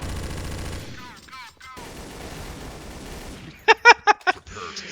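Gunfire from the PC shooter Counter-Strike: Source in a competitive match: a rapid burst of four or five sharp, loud shots near the end, after game sounds and low background noise.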